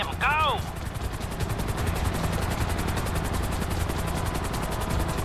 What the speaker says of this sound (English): I'm bringing the chopper back around.